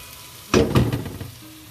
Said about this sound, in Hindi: अब हम इसकी हीट भी बढ़ा सकते हैं थोड़ी सी, क्योंकि टमाटर जो है वो कच्चे हैं तो उसको गलने में थोड़ा टाइम लगेगा